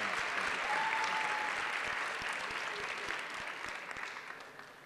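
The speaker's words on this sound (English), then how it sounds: "a big round of applause." Audience applause fills a school announcement at East Side High School for students of the Teacher Education Academy club: dense, steady clapping from a large crowd that holds loud throughout, then eases slightly toward the end.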